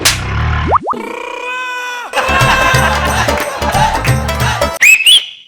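A whistle shrills briefly near the end of a Telugu TV comedy skit, following sliding comic sound effects and a stretch of loud, rhythmic background music.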